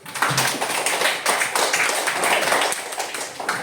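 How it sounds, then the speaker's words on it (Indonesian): A classroom of students claps together, a dense burst of clapping from many hands that carries on for a few seconds with some voices underneath. "Sekali tepuk tangan dulu."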